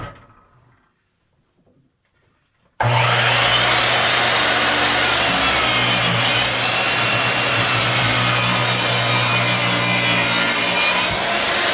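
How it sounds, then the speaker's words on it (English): A saw cuts an angled line through clamped wood for a windmill planter after a near-silent pause, then runs loud and steady with a continuous rasping drone until it tapers slightly at the end. "I'm going to go ahead and make a cut on this one side"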